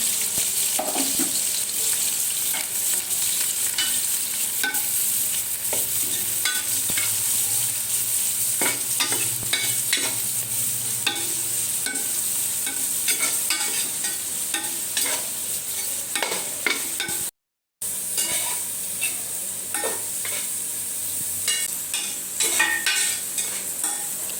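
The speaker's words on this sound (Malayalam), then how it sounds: "ആദ്യം കുറച്ച് ഓയിൽ ഒഴിച്ചിട്ട് സവാള കുറച്ച് ഫ്രൈ ചെയ്യാൻ വേണ്ടിയിട്ട് ആദ്യം കുറച്ച് സവാള എടുത്ത് ഫ്രൈ ചെയ്തെടുക്കുന്നുണ്ട്" Chopped onions frying in oil in a pan, with steady dense sizzling and occasional stirring scrapes throughout, close and fairly loud, briefly cut out near the end, no voices.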